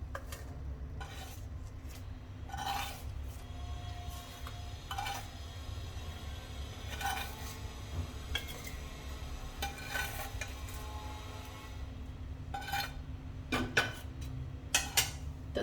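Fried eggplant and potato are served from a pan onto a plate: a spoon scrapes and taps against metal in scattered clinks over a faint background sizzle, with no talking.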